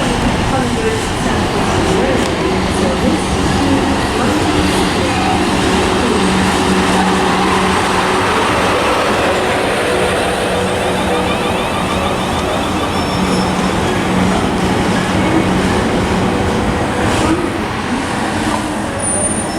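Class 444 electric train, unit 444037, standing at Southampton Central station on the South Western Main Line, giving a steady, loud broadband hum and rumble throughout with faint tonal whines and station ambience.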